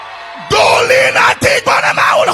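A crowd at a French-language church service suddenly erupts into loud, joyful shouting and yelling, with the roar surging in several bursts.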